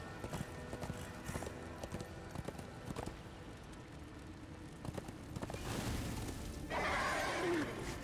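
Hoofbeats of a horse galloping in Darksiders 2 clatter at moderate volume with a neigh over in-game music and rumbling, growing louder toward the end; no clear talk over it.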